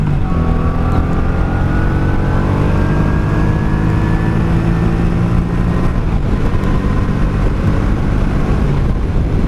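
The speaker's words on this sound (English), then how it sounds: "84 Honda Shadow 700." A 1984 Honda Shadow 700 VT700C motorcycle ridden at night drones loudly and steadily, with engine pitch sweeping up through the gears under heavy wind rush.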